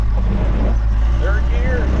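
A first-generation Cummins diesel truck with an NV4500 transmission and NP205 transfer case crawls in low gear, giving a steady, close, deep engine rumble with faint voice-like traces over it.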